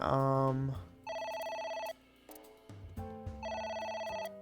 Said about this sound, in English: Oh my god, the phone again.